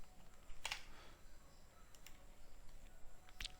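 Quiet typing on a computer keyboard, a few isolated key clicks spread over a few seconds against a low steady background hum.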